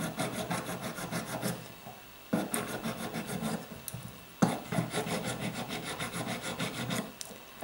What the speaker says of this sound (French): on va essayer gentiment de râper jusqu'à ce qu'on arrive